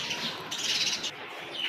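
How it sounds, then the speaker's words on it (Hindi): Small birds chirping near a home kitchen in hot summer weather, a few bright, thin calls in short bursts over a quiet background, fairly close, with no voices. "चिड़ियाँ बोल रही हैं कि हमारा बच्चा कहीं पकड़ ना ले।"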